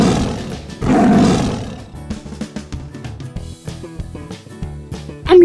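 Lion roaring in a loud, close burst that swells and fades within a second, followed by a quieter stretch of music and a brief second growl at the end.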